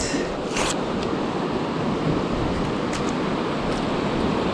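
Sea waves roll in on a beach at night in a steady, loud rushing wash of surf that fills the whole stretch, with wind buffeting the microphone and no talk.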